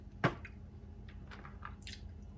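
A lime is squeezed over a bowl of pho, giving one brief, close wet squish followed by a few faint drips and small clicks in a quiet room.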